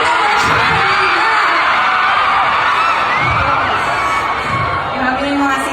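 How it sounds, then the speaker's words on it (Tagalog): A concert crowd screams and cheers in a dense, continuous roar that fills the space, with shrill whoops rising above it and some talking mixed in. "Grabe na yung mga sigawan pag mga ganyan-ganyan."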